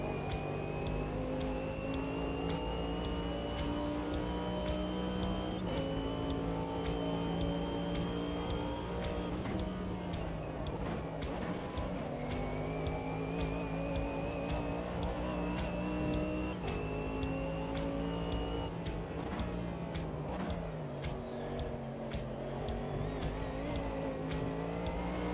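Old Mercedes race car in Automobilista 2, a continuous loud in-car engine drone rising through the gears, with pitch drops and shifts as it brakes and accelerates again, steady throughout, no talking.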